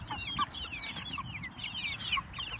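A flock of about 50 chickens on a homestead, mixed layer hens and Cornish cross birds, clucks and chatters continuously at close range, many overlapping calls over a rustling background.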